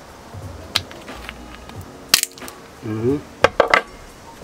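Walnut shells squeezed by hand until they crack give a few sharp, dry snaps and crunches, close up, with brief rustling and a short spoken sound between them.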